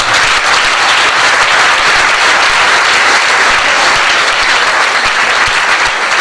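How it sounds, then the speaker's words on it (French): A church audience breaks into loud, sustained applause to acclaim Jesus at a deliverance and healing service; dense, continuous clapping from a large crowd, steady and close throughout with no talking over it. "Est-ce qu'on peut acclamer Jésus?"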